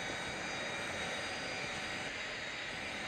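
An A-10's jet engine climbs in RPM inside a video game, a continuous, smooth turbine drone and whine with no talking over it.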